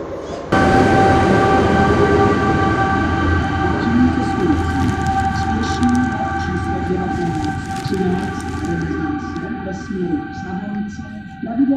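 A train rolls loudly into platform 1 at Jihlava station, a heavy rumble with sustained high metallic whining tones throughout.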